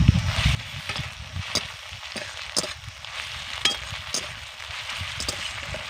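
Ginger-garlic paste fries with onions in a pan, giving a close, steady sizzle. A loud burst comes at the start, and sharp scraping stir clicks recur every half second or so.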